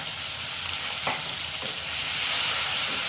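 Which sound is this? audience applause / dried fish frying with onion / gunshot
dried fish frying with onion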